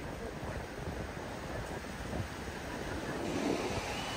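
Sea waves washing in at Digha beach, a continuous soft surf wash mixed with wind buffeting the microphone, moderately faint and steady.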